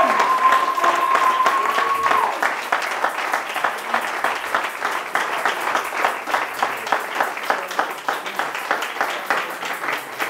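A church congregation applauding together, a sustained and fairly loud burst of many hands clapping in a steady rhythmic beat, with a brief tone audible at the very start.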